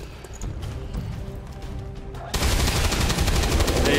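A gunshot in the video game XCOM 2 sets off a sudden loud, sustained burst of dense, crackling fire that carries through to the end. Quieter rustling ambience comes before it, with no talk.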